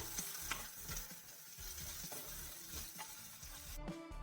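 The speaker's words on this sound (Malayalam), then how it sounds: "ഇതൊന്ന് വഴറ്റണം" Shallots sauté in a pan for a Kerala-style prawn dish, a steady, faint, continuous sizzle and fry with light stirring scrapes and no talk.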